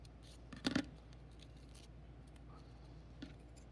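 Scissors snip folded paper into a traditional snowflake: one quick, crisp cluster of cuts, then a faint single snip later, close and quiet against a soft background hum.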